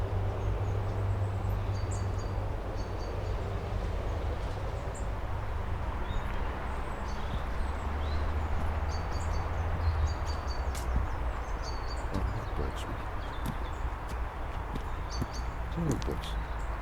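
Birds sing outdoors in a steady wind, with faint, scattered high chirps over a constant low rumble of wind noise. A voice speaks in places.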